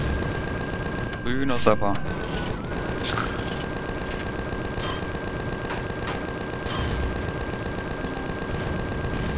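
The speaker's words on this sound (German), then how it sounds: "ich werde von den anderen Seiten geschossen." Gunfire in the space survival game Empyrion Galactic Survival, a steady run of sharp repeated shots under someone talking, with a brief chirping burst near the start.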